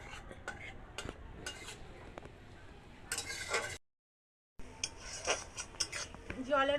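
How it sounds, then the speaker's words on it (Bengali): Onion and green chilli paste is stirred in a pan, with close metal scraping and clinking strokes, a brief silent gap, then more lively stirring. "পেঁয়াজ কাঁচা লঙ্কা বাটা। এটাকে ভালো করে নাড়িয়ে নেব।"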